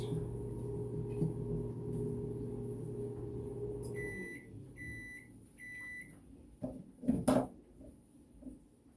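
A microwave oven hums steadily while melting butter, then stops and sounds three beeps, followed by door clatter and kitchen knocks.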